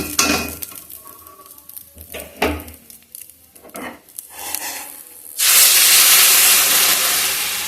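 Water hits a large hot wok of fried rice and erupts into a loud, steady hiss of sizzling steam that holds for several seconds, following scattered clinks and scraping of a utensil against the pan.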